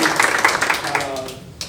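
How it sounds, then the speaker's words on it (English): An audience at a reading event breaks into brief applause. The clapping is steady and moderately loud, with a voice briefly heard over it. "yes, you can applaud"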